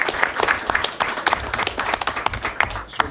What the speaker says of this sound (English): We want to have a round of applause for everyone who was recognized.